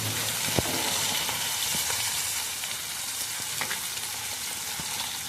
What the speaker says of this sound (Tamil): இன்னும் கொஞ்சம் நேரம் இதை பொரிய விடணும்